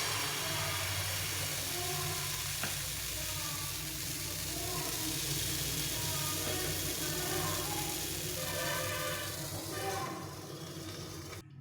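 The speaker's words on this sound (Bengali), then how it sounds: "এখন আমি এভাবে করে আবার ভেজে নেব।" A semolina-and-milk snack fries in a little ghee in a pan, a steady broadband sizzle and hiss running evenly throughout, close and moderately loud, easing slightly near the end.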